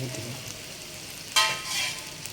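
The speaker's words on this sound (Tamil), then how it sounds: "இப்போ நல்லா வறுக்கணும்" Food frying in hot oil until crispy, a steady soft sizzle with a brief louder burst of crackling partway through and a gentle swell after it.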